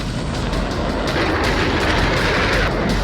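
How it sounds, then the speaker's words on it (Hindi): A deafening explosion at an illegal firecracker factory holding about 15 tonnes of explosives, heard as a dense, sustained roaring rumble that fills the whole moment with no pause. "फैक्ट्री में 15 टन विस्फोटक था, जिसमें अचानक धमाका होता है।"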